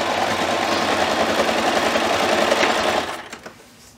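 A sewing machine runs steadily for about three seconds, stitching a quarter-inch seam through the layers of a fabric box pouch, then stops abruptly, leaving a few faint handling clicks.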